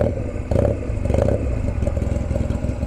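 A warm beginner motorcycle with a cut exhaust starts up, its engine catching after a brief crank and settling into a loud, rough, rapid-pulsing idle close by.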